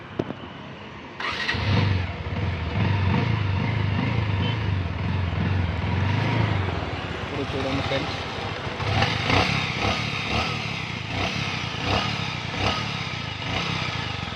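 A Bajaj Avenger 150cc motorcycle engine starts and runs steadily at close range, with someone speaking briefly over the rumble.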